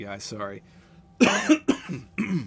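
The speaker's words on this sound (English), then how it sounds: "Hold on, I gotta cough for a second" A few harsh coughs burst out in quick succession, close and loud, between bits of casual talk from the same voice.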